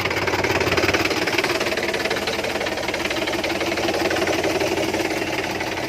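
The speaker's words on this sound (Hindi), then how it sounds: "ये बड़ा ट्रैक्टर लेके आए इसको खींचने के लिए।" A large tractor engine runs at steady working load while pulling a power tiller stuck in mud. A continuous, loud, rough mechanical drone with a knocking texture holds close and unbroken throughout, with no voices.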